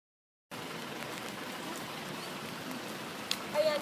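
Rain falls outside a parish church in Alfonso as a steady, soft, even patter and hiss that begins abruptly and holds without a break, with a faint brief sound near the end.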